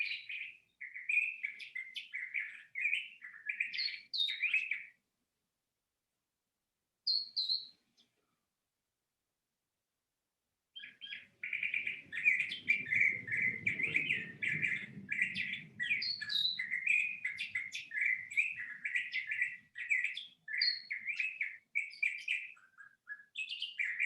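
A wild bird larger than a cardinal singing alone, bursts of rapid, high chirping phrases repeated over and over, broken by a long pause of about five seconds, then resuming in an extended run, fairly close and clear.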